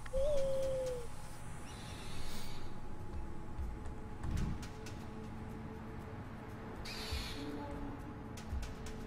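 A bird call from an owl sent in during the Far Cry Primal video game, heard as a short faint hoot or screech at the start, followed by quiet ambient game sounds and distant clicks.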